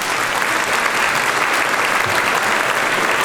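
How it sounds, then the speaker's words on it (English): Sustained audience applause at a school speech day and prize giving ceremony, steady, loud and dense clapping from a large crowd throughout. "join them and take this applause with your bow"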